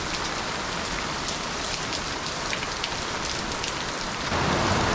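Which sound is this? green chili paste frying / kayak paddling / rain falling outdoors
rain falling outdoors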